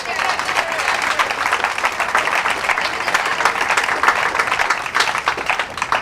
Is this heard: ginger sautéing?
no